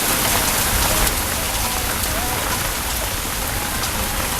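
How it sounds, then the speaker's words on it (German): Heavy rain during a summer thunderstorm with hail, a dense, loud, unbroken roar of drops pounding surfaces close by, with no clear voices. "Hagel!"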